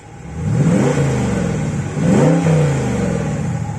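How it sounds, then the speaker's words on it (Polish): A 2017 Dodge Charger R/T with a 5.7 HEMI V8 and active exhaust revs twice in deep, loud bursts. Each throttle blip rises and settles back to a rumbling idle, with no talk over it. "trochę go przygazuję, ma aktywny wydech"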